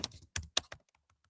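Someone types a few quick strokes on a computer keyboard: four sharp, close clicks in a short burst, then several fainter taps trailing off, with no talking.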